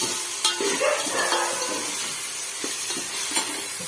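Onions sautéing in a pan for a village-style Kola fish curry give a steady broadband sizzle with a few scraping stirs, close and moderately loud, with no talking.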